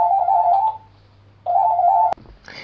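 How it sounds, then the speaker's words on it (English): Phone ringing with two warbling electronic ring bursts separated by a short pause, close and clear, cut off by a sharp click. "And okay, my phone rang."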